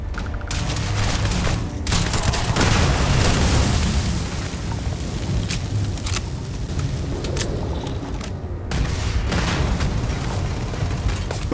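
Rockets launch and burst in the video game Starfield, a dense barrage of booming blasts and crackling gunfire that keeps rumbling for over ten seconds, loud and close, with repeated sharp impacts.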